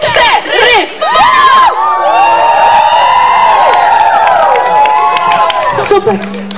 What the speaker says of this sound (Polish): wielkie brawa, robimy falę na 3-4 od tej strony